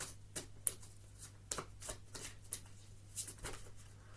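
Spirit Animal Tarot cards shuffled by hand, a series of crisp riffling bursts and soft slaps at an uneven rhythm, close and fairly quiet, with a steady low hum underneath and no talking.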